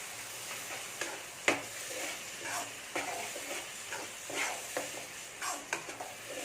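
Ground coconut paste being sautéed in a pan for an egg and chana dal kootu, with a faint low sizzle and regular soft scraping strokes of a spatula, quiet and with no voices.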